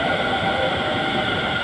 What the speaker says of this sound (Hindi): भाई फाइनली हम लोग का गाड़ी आ रहा है मेट्रो